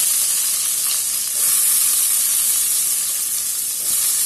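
Ginger garlic paste sautéing in hot oil gives a loud, continuous steamy hiss and sizzle, close up and unbroken for the whole stretch, with no voices.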